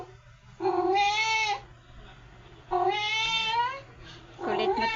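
A pet cat meows three times in long, drawn-out cries that rise and fall, each well separated by a short pause, close and clear against a quiet room with a low steady hum.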